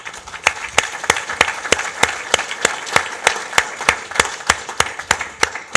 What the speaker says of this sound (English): before we give these guys a round of applause